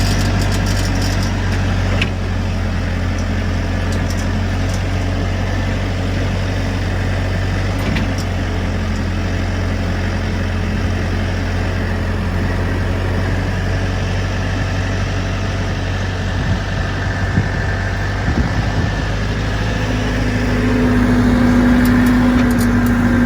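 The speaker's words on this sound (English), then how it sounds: "try to get the backhoe in there close enough." A backhoe's diesel engine running steadily near a farm dam, a loud low continuous rumble that rises slightly toward the end, with no talk.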